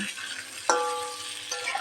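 Boiled taro frying in oil in a wok, a soft continuous sizzle with a couple of brief stirring scrapes and clinks over a short stretch.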